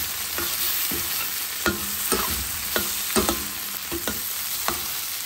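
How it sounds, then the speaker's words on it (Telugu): Cauliflower and onion fry in a pan with a steady hiss of sizzling, broken by repeated scraping thumps from the spatula as the mixture is stirred. "కాలీఫ్లవర్ చక్కగా ఫ్రై అయింది."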